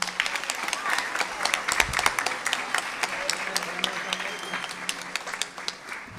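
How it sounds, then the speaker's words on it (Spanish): A crowd at a student presentation event gives steady, moderately loud applause with many overlapping hand claps, continuing evenly from start to finish. "y le querías dar un aplauso fuerte a ellos dos."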